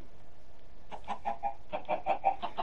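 Chickens cluck in a Minecraft egg farm, a run of quick soft clucks arriving in two short bursts after a brief quiet start, faint and unaccompanied by speech.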